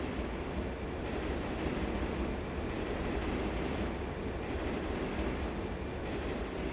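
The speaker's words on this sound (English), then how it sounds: "That's a long train." Steady rumble of a long train rolling past in the video game Turok 3: Shadow of Oblivion, a continuous dense roar with no breaks and no voices over it.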